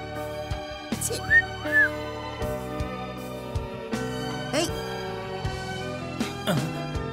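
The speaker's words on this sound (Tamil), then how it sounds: "விசில் வேற போடுறான்" A man whistles at a woman in a short Tamil drama scene: a few brief rising wolf-whistle notes near the start over steady background music.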